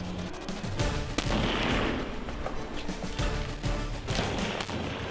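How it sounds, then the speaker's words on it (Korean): Army snipers of an infantry division firing precision rifles at targets out to 400 metres on a range, several sharp cracking shots with rolling echoes in quick irregular succession, loud and outdoors. "이제 정밀 사격을 실시할 건데 타겟은 타겟당 5발씩 총 20발 사격이 됩니다"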